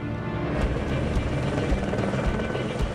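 A low-flying military medevac helicopter roars steadily and loudly nearby, its broadband rotor and engine noise continuous and dense with no break.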